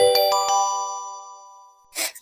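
A phone rings with a bright chiming melody of several tonal hits that sustain and fade, followed by a brief burst of noisy rustle near the end; no talking.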